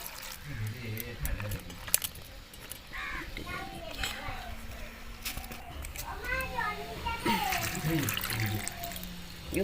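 Water runs and splashes into a cooking pot that holds purple cabbage and river crabs, a continuous gush under a voice talking close by and children chattering in the background.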